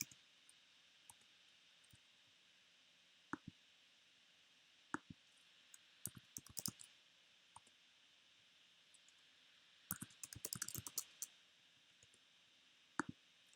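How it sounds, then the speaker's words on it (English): Sparse computer keyboard typing and clicks, quiet and near, with scattered single taps and a brief flurry of rapid keystrokes partway through over a faint hiss. "You carry on typing in"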